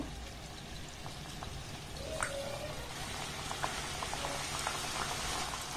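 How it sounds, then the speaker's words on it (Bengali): Biscuit-shaped pieces of wheat-flour dough frying in hot oil over low to medium flame, a soft continuous bubbling hiss with a few faint clicks and drips, fairly quiet and without speech. "এবার যেগুলো বিস্কিটের মতো শেপ দিয়েছি সেগুলো তেলের মধ্যে দিয়ে দেব।"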